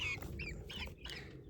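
Backyard chickens, newly added pullets in a finished coop, cluck in a soft, irregular series of short calls over steady low background rumble, fairly close and moderately quiet.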